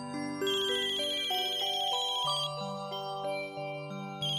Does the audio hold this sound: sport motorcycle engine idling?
no